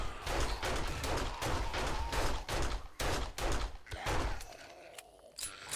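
Gunfire at zombies in 7 Days to Die: a rapid string of sharp shots, some closely spaced and some with short gaps, fairly loud throughout and tailing off near the end.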